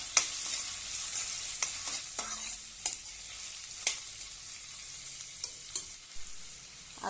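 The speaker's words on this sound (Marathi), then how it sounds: "आता त्यामध्ये आपण हे भोपळ्याचे काप घालूया आणि छानपैकी परतून घेऊया" Pumpkin slices sauté in a hot pan with a steady sizzle, broken by sharp scrapes and knocks of a spatula stirring at irregular intervals, close and with no voices.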